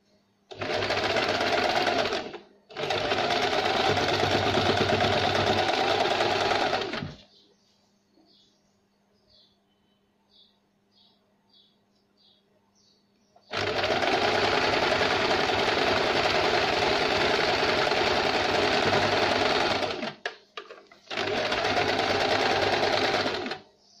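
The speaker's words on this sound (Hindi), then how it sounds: "ध्यान रहे ये वेलवेट का कपड़ा है, इसे हमें खींच के सिलाई नहीं लगानी है" A sewing machine stitches velvet fabric for a blouse in loud, steady whirring bursts, the first two split by a short pause, then a quiet gap of faint clicks before two more long runs, close and with no talk.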